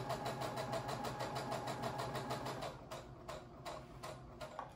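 Sewing machine stitching a fabric face mask, a steady rapid mechanical ticking run that slows into a few separate clicks near the end, close and fairly quiet.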